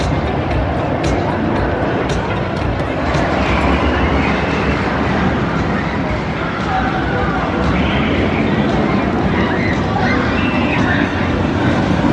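Loud, constant rumbling roar with clattering and wind rush from the Ninja roller coaster ride in progress at Six Flags St. Louis, with faint voices mixed underneath.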